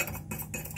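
Eggs whisked with cutlery in a bowl, a steady scraping, clinking rhythm of utensil against dish, close and fairly quiet, with no voices.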